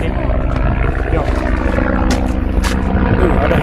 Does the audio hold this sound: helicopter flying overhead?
yes